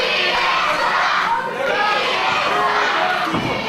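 A wrestling crowd roars and shouts for the Flawless One at an Irish Whip Wrestling event, a loud, dense, sustained wall of cheering and yelling with a commentator's voice mixed in.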